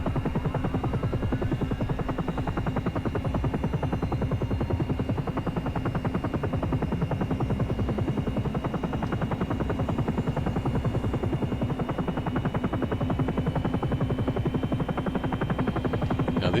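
Twin-engine helicopter in X-Plane 11 with its second engine running, a steady loud turbine whine over a rapid, continuous rotor chop that holds even throughout.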